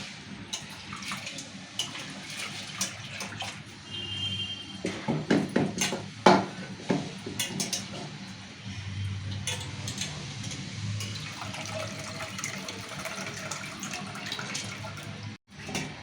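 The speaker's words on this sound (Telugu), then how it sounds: "రెండు సార్లు పప్పు మంచిగా కడుక్కొని మూడోసారి నీళ్ళు పోసి" Water runs and splashes in a sink, with intermittent clinks and scraping as lentils are rinsed by hand, close up and fairly quiet.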